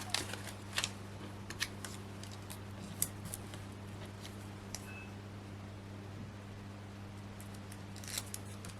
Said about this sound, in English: Let's just cut this pad up a little bit.